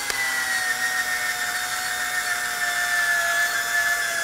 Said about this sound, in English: I've got a kind of a weak hand drill here.